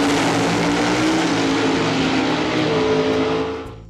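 A 1965 Pontiac GTO muscle car on a race track, its engine a loud sustained roar with shifting pitch that swells and then fades slightly at the end.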